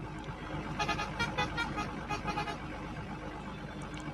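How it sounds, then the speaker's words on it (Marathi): A truck horn honks in a few rhythmic, musical bursts over a low traffic rumble, fairly distant and faint, on a Kolhapur to Nagpur highway journey. "आता तुम्हाला परत एकदा मी ऐकवते हॉर्नचा आवाज."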